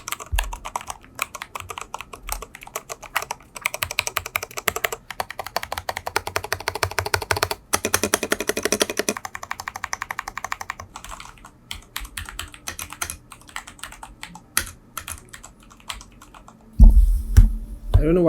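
Fast, close typing on a mechanical keyboard with Cherry MX Purple switches, with dense bursts of clacky keystrokes that pause and resume, ending in a few heavier thumps.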